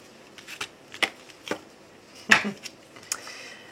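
A deck of tarot cards being cut and shuffled close by, a run of quick crisp riffles and slaps in uneven bursts, with no talk.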